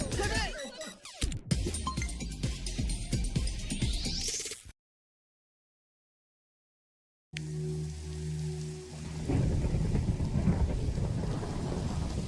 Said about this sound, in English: There's the sound of thunder